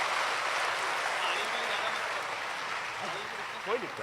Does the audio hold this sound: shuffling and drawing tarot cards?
no